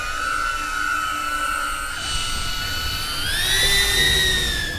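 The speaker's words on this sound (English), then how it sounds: "This drone is very loud and intimidating when you hear it." A loud police drone passes overhead with a steady, high, whining buzz whose pitch climbs partway through as it draws nearer and grows louder.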